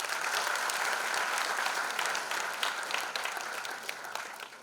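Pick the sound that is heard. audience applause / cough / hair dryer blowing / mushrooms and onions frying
audience applause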